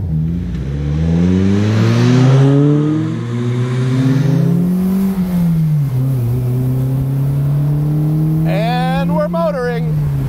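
A Morgan Plus 4 sports car engine with a performance header and exhaust revs loudly and rises and falls in pitch, a throaty exhaust roar up close, ending with a sharp higher rev.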